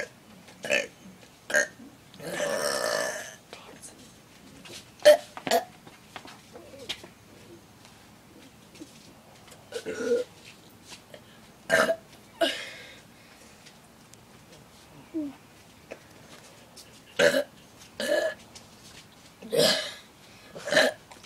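A man belches repeatedly, with over a dozen short burps spaced irregularly across a quiet room, some louder and drawn out, and other voices come in only briefly.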